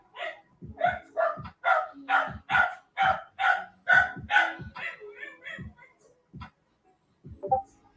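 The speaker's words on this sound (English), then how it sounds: "Why the dog is barking?" A dog barks over and over in a steady, rapid series, then pauses and gives a couple of final barks.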